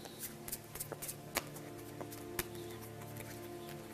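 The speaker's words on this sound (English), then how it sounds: "What I'm going to do is just shuffle the cards like this." Playing cards are shuffled by hand, giving a series of soft riffling flutters and sharp snaps at irregular intervals over a faint steady room hum.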